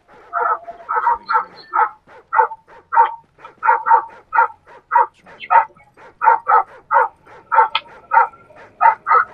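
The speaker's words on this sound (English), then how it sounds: "Where's this dog up to?" A dog barks repeatedly in the video game Call of Duty: Ghosts, a steady run of close, clear yips and woofs in quick rhythmic bursts with no other sound behind them.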